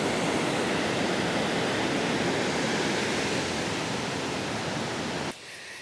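Soochipara waterfall in Wayanad, Kerala pours in a dense, continuous roar, loud and unbroken, before dropping away suddenly at the very end.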